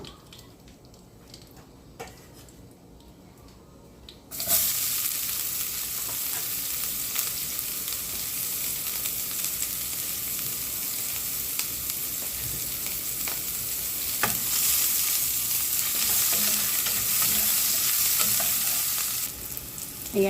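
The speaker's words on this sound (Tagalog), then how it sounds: "Gisa natin ang onion at garlic." Onion and garlic hit hot oil in a pan: a quiet start, then a sudden loud sizzle that holds steady for about fifteen seconds with stirring scrapes and occasional clinks, no speech.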